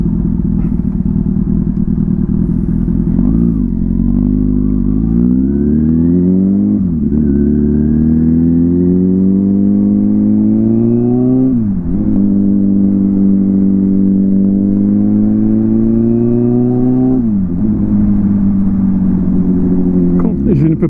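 Motorcycle running with its exhaust baffle removed, loud and close throughout, with repeated revving rising and falling in pitch over a harsh, open exhaust note while someone talks over it.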